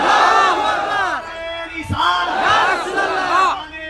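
A large religious gathering loudly chants the Takbeer slogan in unison with raised hands, the voices merging into a roaring, rhythmic crowd chant that swells and falls across the clip.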